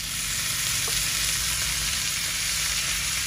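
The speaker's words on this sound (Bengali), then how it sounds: "করলা ভাজির জন্য বোম্বাই মরিচ, পেঁয়াজ ভাজা হইতে আছে" Steady loud sizzle and crackle of bitter gourd dropped into hot oil with frying onions and Bombay chilies, continuous and close, no voices.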